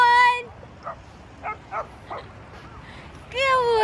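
A golden retriever lets out high whining yelps at the start and end, with a few short soft barks in between, close by in a quiet room.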